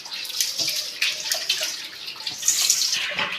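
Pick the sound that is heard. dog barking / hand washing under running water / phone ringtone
hand washing under running water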